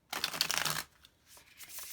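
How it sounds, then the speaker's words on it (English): Tarot cards being shuffled, a quick soft riffle close by, followed by faint handling sounds. "That was clumsy shuffling."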